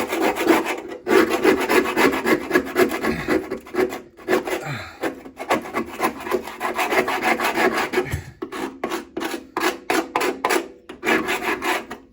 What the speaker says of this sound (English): so to clean this up, I'm literally got a scraper.